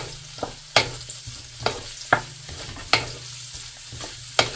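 Garlic frying in butter for duck kaldereta, a steady low sizzle broken by sharp, regular spatula knocks against the pan about every half second, close up with no speech.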